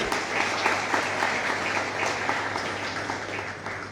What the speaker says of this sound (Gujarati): તાળીઓ પડવી જોઈએ.